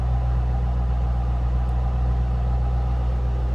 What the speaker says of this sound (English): These are great sounding car. Under throttle, got a little bark to them. A little deeper exhaust note than a GT regular Mustang.